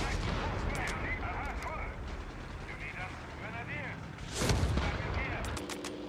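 Battle din from Company of Heroes 3 with machine gun fire and gunshots rattling steadily throughout, a louder burst near the end, under shouted in-game voice lines.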